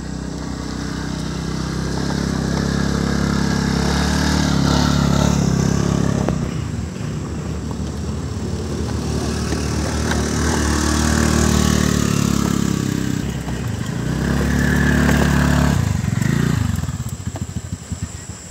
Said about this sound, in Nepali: सानो सानो यो स्कुटरहरूलाई गाह्रो छ, बाटो राम्रोसँग ट्र्याक बनेको छैन